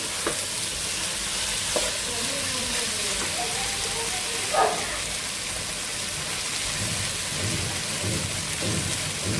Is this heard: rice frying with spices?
yes